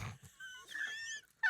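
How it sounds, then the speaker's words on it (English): A dog makes whiny, wheezing whimpers indoors, close and fairly faint. A few brief thuds come before the whimpering. "The dog is being a pestilence."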